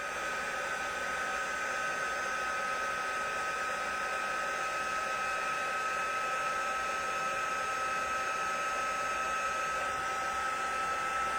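Embossing heat tool blowing hot air to set white embossing powder, a steady loud whooshing hum with a faint whine, unbroken and alone for the whole stretch.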